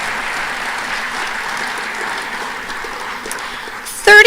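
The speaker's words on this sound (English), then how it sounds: "big round of applause?" An audience at an awards ceremony gives a round of applause, heard as a dense, even wash of many hands clapping, moderately distant, ending with a brief louder knock.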